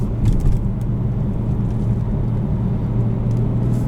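A 2015 BMW M4 with a manual gearbox cruises in Sport Plus mode, giving a steady low engine and road rumble heard from inside the cabin, with no talk.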